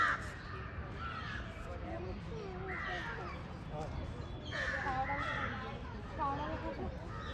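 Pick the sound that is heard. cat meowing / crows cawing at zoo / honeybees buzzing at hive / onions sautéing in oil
crows cawing at zoo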